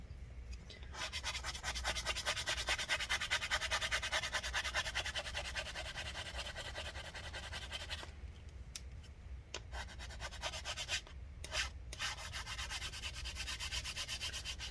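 Steady, close scrubbing of adhesive residue off the case of a 15-inch Retina MacBook Pro mid-2014 with rubbing alcohol, a continuous rough rubbing that runs the whole time with only brief breaks near the end.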